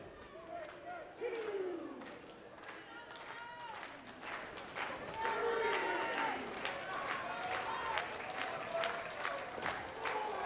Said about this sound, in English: This great crowd in Poughkeepsie coming alive once again.